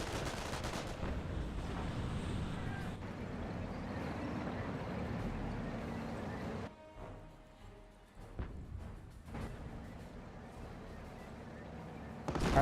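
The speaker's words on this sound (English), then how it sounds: "Rifle squad taking a bit of fire there." Sustained gunfire and battle noise pour down on an infantry rifle squad in the World War II strategy game Company of Heroes, dense and loud for several seconds, briefly thinning, then resuming with scattered shots.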